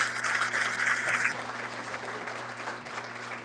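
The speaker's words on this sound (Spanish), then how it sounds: "Un fuerte aplauso para ella." Audience applause at a formal commemorative event for International Women's Day, a steady roar of clapping from a crowd that holds strong for over a second, then eases and continues more softly.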